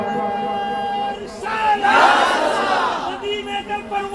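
A crowd at a devotional religious gathering answers a chanted slogan with a massed shout that swells for about two seconds and then fades back under sustained singing and music.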